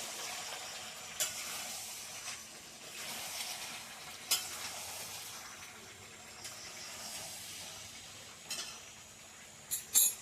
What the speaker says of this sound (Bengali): দেখো মাংসটা কিন্তু তেল ছাড়তে শুরু করে দিয়েছে।